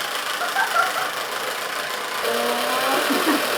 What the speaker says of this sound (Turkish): Ondan sonra mikserle çırpmamız